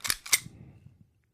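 A gunshot sound effect, two sharp snappy cracks in quick succession followed by a short low rumbling tail, fairly quiet and alone.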